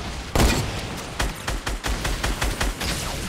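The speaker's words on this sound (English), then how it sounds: "Oh, wow, that's not my explosion." Explosions and gunfire in the Fortnite Fortnitemares zombie game mode: a loud deep boom at the start, followed by a rapid string of sharp blasts and shots close up, with no talk over them.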